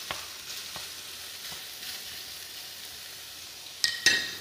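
Eggplant fries in a pan in nothing but its own released oil, giving a faint, steady sizzle with a few sharp clicks near the end and no talking.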